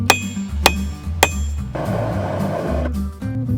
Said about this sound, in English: grab your heaviest hammer for this part, because you need to thin this thing out a lot